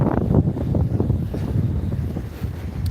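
Strong, gusting wind buffets the microphone outdoors at a snow tubing hill, a loud, continuous low roar with rough surges and no voices.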